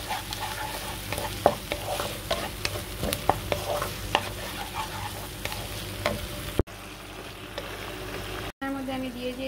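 Mustard seeds and chili paste ground on a grinding stone are sautéed in a pan for a pomfret fish dish, with a busy sizzle and repeated spatula scrapes and clacks for several seconds before the sound cuts off abruptly.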